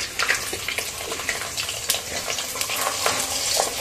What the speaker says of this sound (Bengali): দেখেন কত সুন্দরভাবে আমাদের পরোটাটি রাইস কুকারে ভাজা হয়ে গেল।